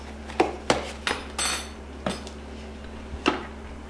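Batter for rhubarb bars, made with brown rice flour and baking soda, is mixed in a bowl; a utensil knocks and clinks against the bowl in a handful of sharp, separate taps.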